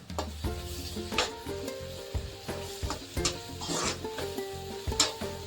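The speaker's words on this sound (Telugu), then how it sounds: "ఇంకా అట్లానే కొద్దిగా పుదీనా వేసుకుందాము" Mint leaves fry with onions in a pan, a crackling sizzle under repeated rhythmic spoon strokes and scrapes against the metal, close and steady with no talking.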